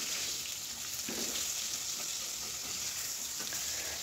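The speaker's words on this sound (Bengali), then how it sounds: "মাছটা আবার নতুন করে তেল গরম করে ভাজতে বসালাম" Fish fries in freshly reheated oil with an even, continuous sizzle close by. A few faint stirring scrapes sound over the frying, and no one speaks.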